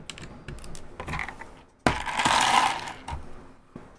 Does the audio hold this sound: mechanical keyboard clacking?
yes